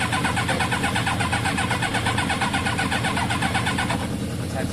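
A Kawasaki ZL600 motorcycle engine cranks steadily on the starter without catching, a loud, close, rapid rhythmic churning that runs unbroken for several seconds.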